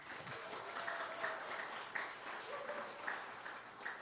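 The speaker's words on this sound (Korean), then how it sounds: "삼광산업의 번영을 응원하는 박수를 한번 치시겠습니다" A quieter round of applause at a 100-day celebration party, moderately distant clapping from a modest group that holds steady for about four seconds, with a few sharper accents and faint voices underneath.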